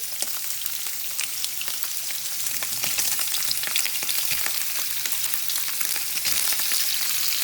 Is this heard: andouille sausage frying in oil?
yes